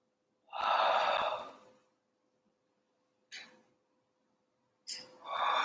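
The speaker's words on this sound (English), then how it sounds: "Deepen your breathing." Deep, forceful breaths during a kundalini kriya breathing exercise, one long breath followed after a pause by two shorter ones, close and clear against near silence.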